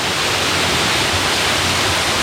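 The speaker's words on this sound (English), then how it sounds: "There is a lot of water coming down," Heavy water rushes down a rocky canyon in Bali, a loud, continuous broadband roar close by with no voices.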